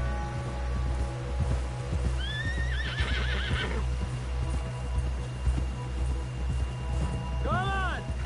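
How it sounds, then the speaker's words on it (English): A horse in the video game Red Dead Redemption 2 gallops with a steady clip-clop of hooves and whinnies twice, under a voice talking. "Someone help John down off this horse"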